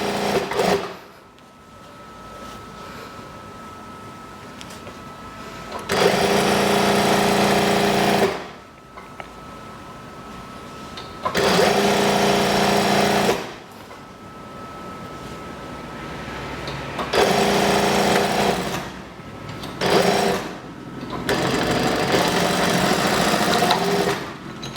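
A sewing machine stitches the waist of a kimono-style daster in four loud, steady whirring runs of a few seconds each, separated by quieter pauses with faint handling noise.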